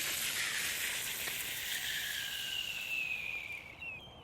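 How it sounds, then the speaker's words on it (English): Water coming to a boil in a Ghillie storm kettle, a steady hissing rush with faint bubbling that tapers slightly toward the end, heard alone at moderate volume. "And that's the boil"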